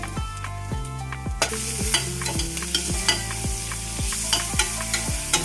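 Onion and tomato frying in a pan: a steady, close sizzle that jumps louder partway through, with regular spoon strokes scraping and knocking about twice a second over a low, constant background tone.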